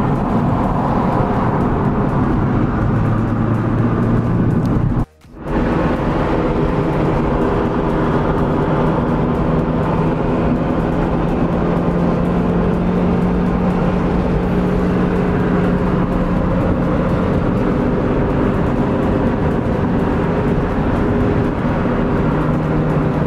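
A car cruising on a long highway road trip, heard from inside as a steady, loud low road and engine drone that cuts out once briefly.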